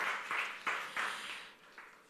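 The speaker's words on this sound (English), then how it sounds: "Let's clap." An audience at a conference claps for an arriving panel guest, a short burst of scattered, fairly faint applause with a few distinct claps that fades out within about two seconds.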